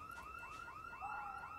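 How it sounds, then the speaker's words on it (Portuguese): A looping electronic alarm in a zombie survival video game, a rising-and-falling warble repeating steadily about every 0.4 seconds, loud and continuous with no talk. "O alarme foi ativado."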